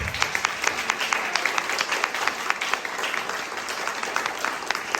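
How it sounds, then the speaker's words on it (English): An audience applauds a panel discussion with a steady wash of many hands clapping, sharp individual claps poking out of the dense, sustained applause from start to finish. "We get a round of applause."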